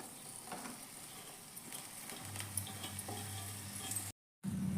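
Green onion and potato curry is stirred in a pan, a soft scraping and faint sizzle that runs steadily for several seconds under a low background hum, with a brief dropout near the end.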